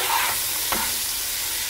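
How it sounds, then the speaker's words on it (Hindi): Potatoes and garlic frying in a pan while making pasta, a continuous close sizzle with a single stirring scrape partway through. "और थोड़ा सा फ्राई करना है"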